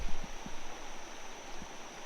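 A river rushing right beside a cabin in Georgia, a steady, full broadband wash of flowing water close by with a few faint low knocks.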